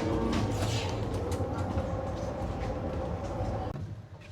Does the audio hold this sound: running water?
no